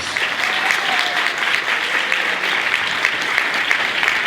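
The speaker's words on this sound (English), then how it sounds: "Let's clap our hands again for them, all the honorees." Sustained audience applause for the 2022 cohort of exceptional women of color honorees at an awards event, steady dense clapping filling the whole stretch without a break.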